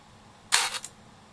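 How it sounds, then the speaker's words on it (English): The film advance on an Exa 11a camera is wound forward in one short, close mechanical ratcheting burst that ends with a small click, with quiet before and after. "I wind forward the camera"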